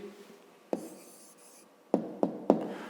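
A pen scratches across paper as a maths answer is written down, with short scraping strokes and several sharp taps of the pen, close and fairly quiet.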